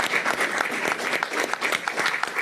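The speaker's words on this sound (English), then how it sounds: "please help me in thanking all of our panelists with a round of applause" Audience applause for a panel at the close of a stormwater filter session, a steady dense patter of many hands clapping at moderate level, with no talk over it.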